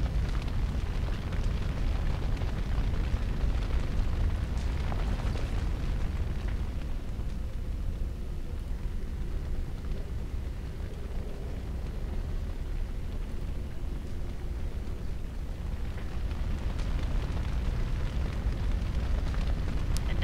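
Fire in the Gauntlet in Dragon Age: Origins gives a steady, loud, roaring rumble with crackling texture that runs on without a break, and no one speaks over it.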